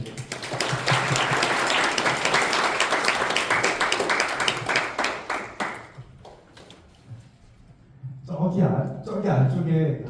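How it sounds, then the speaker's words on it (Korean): An audience claps after a programming talk, a dense burst of applause lasting about six seconds that fades out, followed by someone speaking. "네, 박수 좀 부탁드릴게요."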